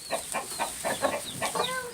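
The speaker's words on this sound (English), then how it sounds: "I think I counted 12 hens and 1 rooster." A flock of about a dozen hens with one or two roosters clucks in a steady run of short calls, close and moderately loud, with no talk.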